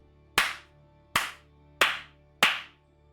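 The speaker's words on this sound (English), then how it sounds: "Clap, clap. Frost DK gets a massive clap." Four sharp, evenly spaced hand claps ring out alone, each one crisp and followed by a short fading tail.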